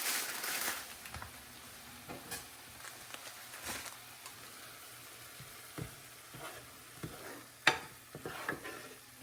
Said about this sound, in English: Those onions are cooking. I'm gonna cook these in this skillet.